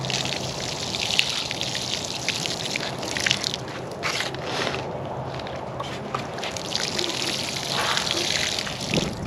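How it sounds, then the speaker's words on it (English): Water poured over newly planted flowers in a garden: a continuous splashing trickle and gush, fairly close and loud, with small pauses in the flow. "Give them a little bit of water."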